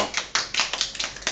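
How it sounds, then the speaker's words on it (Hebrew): A group of girls clapping hands together in unison, a quick run of about nine sharp, close claps in a loose steady rhythm. "בנות עשו כפיים. ביחד, מתואמות"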